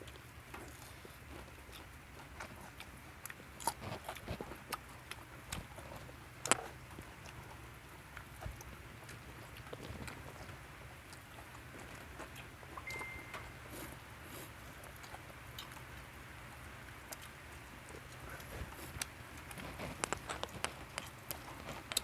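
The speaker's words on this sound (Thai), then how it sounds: "ฝนก็ตก" Steady rain falls during breakfast, a soft continuous patter with scattered louder drips and taps over a quiet background, no voices.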